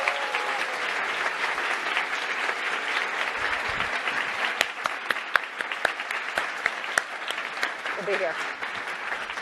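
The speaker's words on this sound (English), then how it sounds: "Let's give her a big round of applause." An audience at a live panel event for the film The Post applauds steadily for several seconds, dense clapping that carries on under a short spoken remark.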